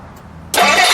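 A 1958 Plymouth Belvedere with a custom glass pack exhaust cranks and fires, a quiet half second giving way to a sudden loud, sustained engine roar close by.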